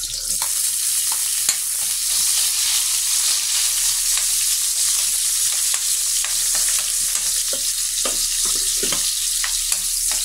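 Chopped onion frying in a pan for Filipino pinakbet, a steady sizzle with occasional stirring clicks and scrapes, close and continuous with no talking.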